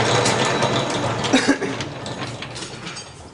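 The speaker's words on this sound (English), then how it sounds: "I'm making the front wheel spindle nuts for the Cosworth Norton" A steel front wheel spindle nut for a Cosworth Norton motorcycle being machined, with a steady mechanical whir and hum from the machine and a brief pair of clicks partway through, fading slightly toward the end.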